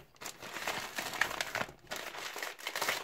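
A double plastic bag crinkles and rustles steadily up close as a steering wheel cover ordered from Aliexpress is unpacked, soft irregular crackles continuing for a few seconds without talk.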